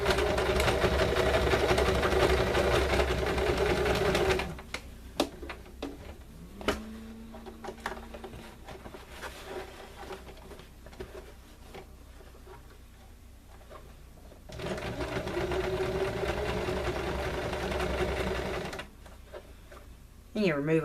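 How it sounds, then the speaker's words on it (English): A sewing machine stitching a tote bag handle runs in a steady, loud whirring burst, stops for a stretch of quieter handling noises, then whirs again for several seconds. "you're going to have to sew down one of your straight lines to get back to another corner"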